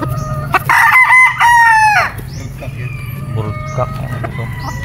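A straight comb possum sweater gamefowl rooster lets out one loud, close crow of about a second and a half, followed by softer clucks and farmyard noise over a low background hum, with a brief spoken word.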